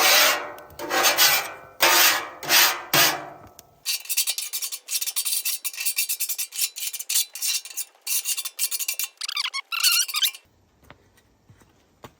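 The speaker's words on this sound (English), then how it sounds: "You just want to get off any of the grease or the stuff that's cooking on there." A metal scraper rasps grease off a hot Blackstone flat-top griddle in repeated loud strokes, first long sweeping scrapes, then a quicker run of short squeaky scrapes before it stops.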